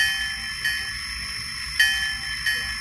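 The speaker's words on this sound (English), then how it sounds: "Here is the bell." A toy locomotive's bell rings three times at uneven intervals over a steady high hiss, bright metallic tones sustained throughout.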